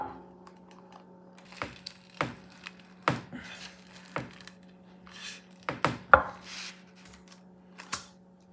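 Fried plantains for a Puerto Rican jibarito are pressed flat with a pan: about nine sharp, separate thuds land at irregular intervals over a quiet background, close by, with no one talking.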